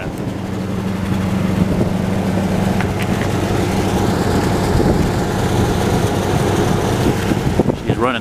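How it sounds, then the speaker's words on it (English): A 1977 Lincoln Continental Town Car runs at a steady high idle on choke during a cold start, its low engine drone continuous and close, with brief speech over the rumble. "She's running high idle on that choke."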